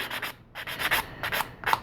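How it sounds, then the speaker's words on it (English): A 180 grit sanding stick rubs against a colored resin model part to remove a gate, making short quiet scratchy strokes in a steady back-and-forth rhythm, close and alone. "this is a 180 grit sanding stick, and I use that basically just to get the gate off initially"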